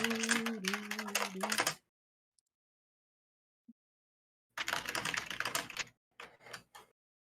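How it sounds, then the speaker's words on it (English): Rapid clicking of fingers typing on a computer keyboard comes in two close, fairly loud runs after a long quiet gap. A short tonal, voice-like sound opens the recording. "Let me know when you finish typing."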